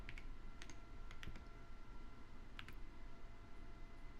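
Typing on a computer keyboard produces quick, crisp clicks in small bursts, with brief pauses between the flurries, close and fairly quiet over a soft room hiss.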